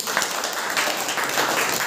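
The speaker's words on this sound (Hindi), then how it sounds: "बहुत बढ़िया, ताली बजाइए।" Children in a classroom clap their hands in a brief, scattered burst of light, uneven claps lasting under two seconds.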